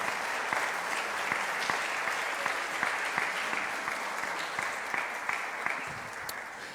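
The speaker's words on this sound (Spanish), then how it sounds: "¿Puede darle usted un aplauso al Señor en esta mañana?" Church congregation clapping, a moderate, fairly even burst of applause with individual claps standing out, continuing for the whole stretch at a slightly distant level.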